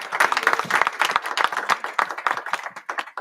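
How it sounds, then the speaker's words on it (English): A round of applause at a European young chef award ceremony, many hands clapping in a busy, uneven patter that stays steady and fairly loud throughout, with no talk. "One more round of applause."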